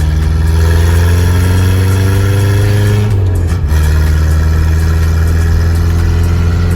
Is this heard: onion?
no